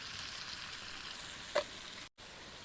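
Prawns stir-fried in a pan for a Bengali kochur loti chingri dish, a steady close sizzle of hot oil with one brief louder spatter and a short cut near the end, no voices.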